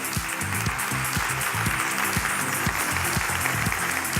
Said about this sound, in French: on l'applaudit super fort